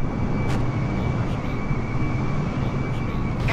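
Airbus A320 engine drone in a flight simulator game, a steady broadband roar with a faint constant whine held evenly throughout, no voices over it.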